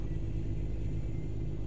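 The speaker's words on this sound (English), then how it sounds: "this truck sounds mean as hell" In American Truck Simulator, a truck engine produces a deep, steady rumble that holds at an even level throughout, close and loud, with no speech.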